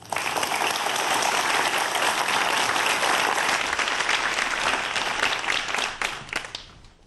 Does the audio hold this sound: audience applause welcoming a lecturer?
yes